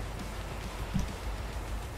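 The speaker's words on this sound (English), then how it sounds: "It's like you're getting rained on." Steady rain hisses as a dense, even wash of noise in the horror video game Pacify, with a faint thud partway through and no talking.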